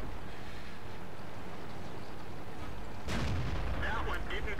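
A tank gun in the World of Tanks video game fires one loud, booming shot that breaks over a dense, rumbling battle background, with the sound lingering and decaying afterward.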